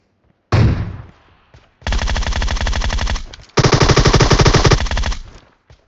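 Automatic rifle fire in the mobile battle royale game PUBG Mobile comes in loud, close bursts: a single sharp shot, then two long rapid sustained volleys.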